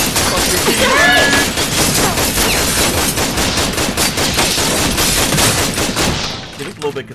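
Sustained bursts of gunfire from the Tales from the Borderlands video game, dense rapid shots filling the whole stretch and fading near the end.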